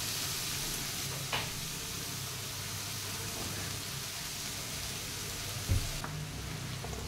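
Cooked ragi vermicelli being sautéed in a pan on the stove for a Tamil home breakfast, a soft continuous sizzle with a couple of faint utensil knocks, quiet and close with no talking.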